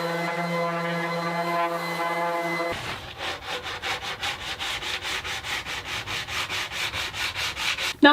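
Steady back-and-forth rubbing of sandpaper on a wooden floating shelf, rhythmic strokes repeating at a brisk, even pace from close by after a brief tonal hum, with no talking.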